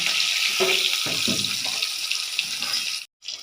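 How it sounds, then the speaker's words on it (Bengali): Hilsa fish fries in a pan for mustard hilsa, a close, steady sizzling hiss with a few soft low knocks, cutting out abruptly for a moment just before the end. "সর্ষে ইলিশ করবো, তার জন্য আমি মাছটা ভেজে নিচ্ছি।"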